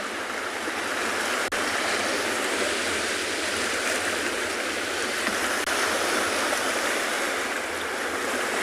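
Ocean waves on a shoreline at sunset produce a loud, continuous broadband wash of surf with no breaks, steady throughout and without talk.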